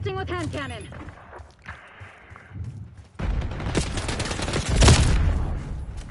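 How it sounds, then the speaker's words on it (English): Hand cannon gunfire in a video game, a dense burst of loud shots crowding the second half, following quieter game sounds and a brief tonal effect. "Assaulting with hand cannon."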